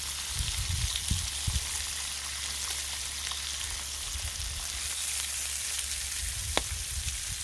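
Bacon frying on a Blackstone griddle gives a steady, dense sizzle with continuous crackle and occasional sharp pops, close and alone.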